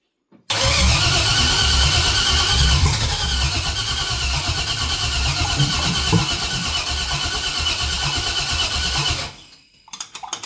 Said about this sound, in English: that's the first noise it's made since it's been in this car.